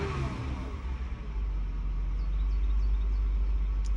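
A V6 car bought at auction runs close by, its engine humming steadily with a low, continuous rumble and slight revving swells, with no talking.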